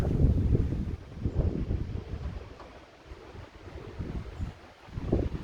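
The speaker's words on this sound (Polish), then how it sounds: "za mocno wieje panowie" Strong gusty wind buffets the microphone outdoors in repeated loud, rumbling surges that rise and fall throughout.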